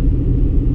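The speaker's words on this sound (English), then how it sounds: "as we drive up to Watertown, looking at all the wet fields around here" A car driving along a rural road past wet fields, heard from inside as a loud, steady low engine and road rumble with no voices.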